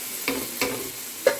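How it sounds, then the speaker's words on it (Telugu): Sesame seeds dry-roast in a pan, stirred in three quick scraping strokes with a faint sizzling rustle between them, close and quiet, with no talk. "నువ్వులు వేయించుతున్నా వేరే ప్యాన్లో"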